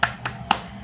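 Short classroom clapping cheer led by a teacher, three sharp hand claps in a quick, uneven rhythm with pauses between them, fairly close and alone without talk.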